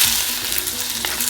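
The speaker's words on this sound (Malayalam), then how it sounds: "മുരിങ്ങയിലൊന്ന് വറുത്ത ശേഷമാണ് നമ്മൾ ഈ കറി തയ്യാറാക്കുന്നത്." Drumstick (moringa) leaves fry in a pan for a jackfruit-seed curry, giving a loud, close, continuous sizzle with a soft stirring scrape.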